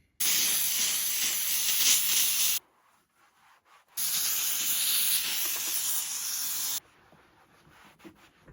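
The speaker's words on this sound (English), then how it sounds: "is it better because of the steam gun or because of hot water and scrubbing?" A steam gun hisses against a Land Rover Discovery 2 door panel in two long, loud, steady bursts, each about three seconds, separated by a quiet pause with faint rubbing.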